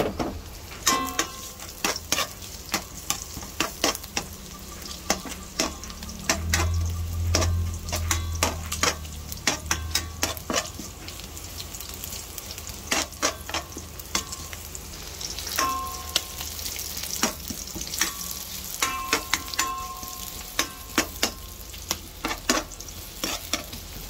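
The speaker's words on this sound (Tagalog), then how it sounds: "Mag-gisa na tayo, no?" Garlic and onions for pork belly adobo sautéing in a pan, with steady close sizzling broken by frequent sharp clinks and scrapes of a utensil stirring against the pan, alone without talk.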